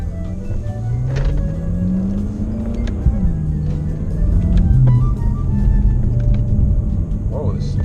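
A BMW F10 M5 with an Akrapovic exhaust drives nearby, its deep engine rumble rising and falling as it accelerates, a steady loud drone with shifting pitch.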